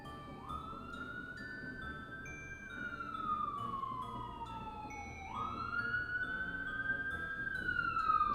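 Emergency vehicle sirens wail outside an apartment building during a fire, fairly distant and faint, with rising and falling tones that overlap one another against low background rumble.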